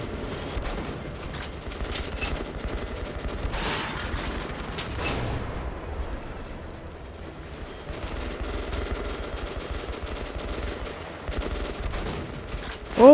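Rapid automatic gunfire in the first-person shooter Metro Last Light, with dense bursts of shots and mechanical clatter running almost continuously, loud and close, followed by a brief sharp sound at the end.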